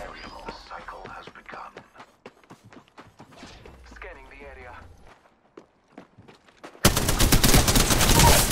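A soft voice murmurs and whispers over quiet in-game footsteps in Apex Legends, then a loud, sustained burst of rapid gunfire erupts near the end.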